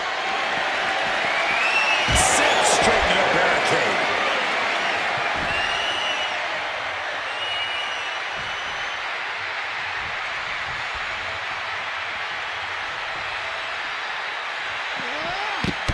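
Broad crowd roar and cheering fill a wrestling arena in the WWE 2K25 video game, loud at first and then easing to a steady wash under a commentator's voice.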